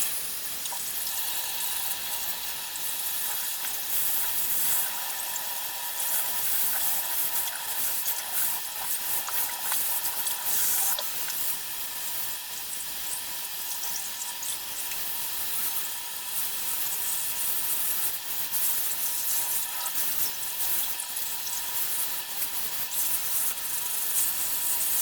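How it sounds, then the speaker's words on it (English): Tap water set to 44 degrees runs steadily into a sink, a continuous bright hiss and splash at even level throughout with no talk. "I will just let the water run for a while."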